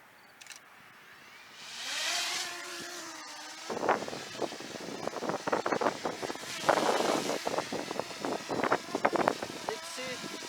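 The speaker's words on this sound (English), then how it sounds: "I don't know how we can handle this strong wind." Strong gusting wind buffets the microphone during a test flight of a DJI Mini SE drone, rough rumbling bursts that swell and drop in the second half, with someone talking over it.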